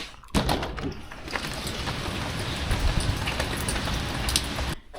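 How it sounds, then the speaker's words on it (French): Rain pours outside after the view opens onto it, a dense steady patter on surfaces for about four seconds, with a few scattered knocks and a sudden cut at the end, with no speech. "en plus il pleut"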